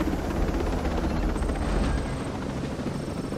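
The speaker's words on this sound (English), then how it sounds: "so here we go with them not sensing the helicopter landing" Helicopter landing in the video game Ghost Recon Breakpoint, a steady loud rotor roar and engine whine filling the scene with constant broadband rumble, close and continuous throughout.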